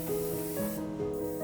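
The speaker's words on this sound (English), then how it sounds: "we're going to spray a little bit of yellow cocoa butter on top of that" Yellow cocoa butter sprayed over chocolate bonbons in a Michelin restaurant kitchen, a steady airbrush-like hiss running alone for about a second and a half under faint tonal background.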